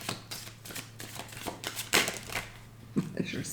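A deck of tarot cards being shuffled by hand, a run of soft papery riffles and flicks with a sharper slap of cards near the middle, close up and moderately quiet over faint room hum.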